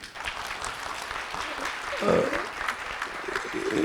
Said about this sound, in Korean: 우리 원 장관님 이제 박수를 보내드리시죠